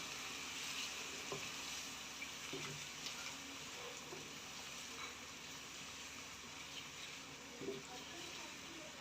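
Spices and boneless chicken fry in a pot for chicken handi, giving a soft, steady sizzle with occasional light stirring clicks, fairly faint and even throughout.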